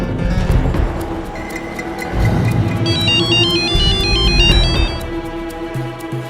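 A mobile phone ringtone plays an incoming-call melody with bright repeating tones that rise and fall over a busy, loud background of music and street-like noise.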